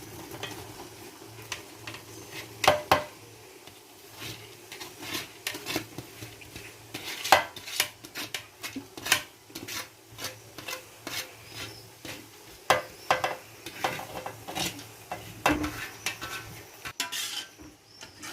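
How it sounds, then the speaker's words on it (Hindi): Mostly boiled rice goes into thin dissolved sugar syrup in a pot for sweet zarda with desi ghee and khoya, with uneven clattering, scraping and knocking from a spoon against the pot over a soft bubbling sizzle. "अभी हम साथ ही चावल डालने लगे हैं।"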